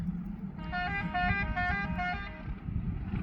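A tractor horn blares in a sustained honk over a low engine rumble, then cuts off while the motor keeps running.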